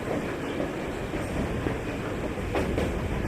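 A train in the video game Metro Exodus rolls along a flooded railway. A continuous heavy rumble and clatter runs throughout, with a few brief metallic squeals near the end and no talking.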